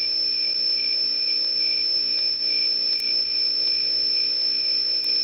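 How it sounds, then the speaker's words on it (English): Crickets chirp steadily and continuously as a sound effect on a livestream, a faint even trill with no talk and no other sounds. "I've also got crickets for when I make a really bad joke."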